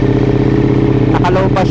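A motorcycle engine idles steadily while warming up on a cool morning before a ride, its low, even throb sustained and close. A voice cuts in briefly near the end.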